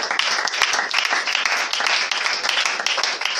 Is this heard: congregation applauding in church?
yes